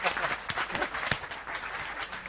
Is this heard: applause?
yes